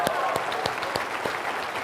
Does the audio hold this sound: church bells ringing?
no